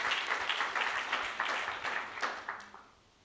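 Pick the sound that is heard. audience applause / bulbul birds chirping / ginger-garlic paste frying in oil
audience applause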